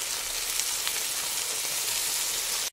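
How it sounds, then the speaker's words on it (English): A harsh, steady sizzling hiss like something burning, loud and close, running unbroken for a few seconds before cutting off abruptly. "An instant, blood-curdling sizzle."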